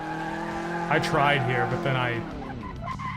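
Tires squealing as a car drifts in a sim racing video game driven with a steering wheel, a steady engine whine rising with a sliding screech while someone talks over it.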